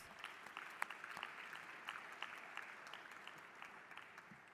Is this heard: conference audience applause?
yes